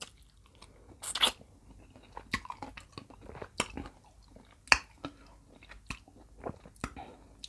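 Someone bites and chews crunchy bak fai fruit dipped in sweet fish sauce, close and quiet, with a scattered series of sharp crunches and wet chewing sounds separated by short pauses.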